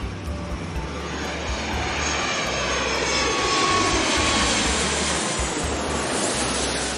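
A fixed-wing airplane's engine roars steadily and loudly throughout, a broad continuous rumble with no talking over it.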